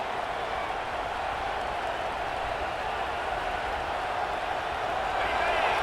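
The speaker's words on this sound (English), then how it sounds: "Listen to this crowd just shaking the girders of this place" A large video game college football stadium crowd roars continuously in the background, a broad, steady wash of cheering noise with a commentator's voice over it.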